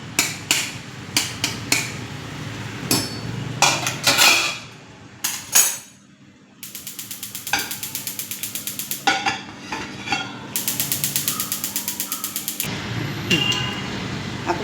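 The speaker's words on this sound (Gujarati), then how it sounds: "એકવાર પાછું આપણે ટમેટો સ્ટર કરી લઈએ છીએ." A spoon stirs tomatoes in a pan for tomato soup, giving close clinks and scrapes of metal on the pan, with bursts of rapid, even ticking partway through.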